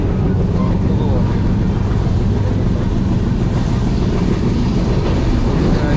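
Passenger train running on a long-distance route, heard from inside the coach as a loud, steady rolling rumble with faint rhythmic rail clatter, continuous and close.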